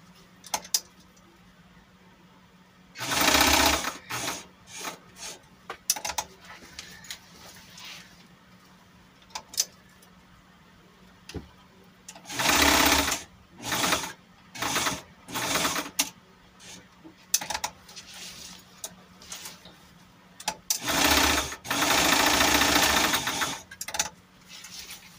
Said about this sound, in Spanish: Voy a coser un cuadrito que quede bien reforzado.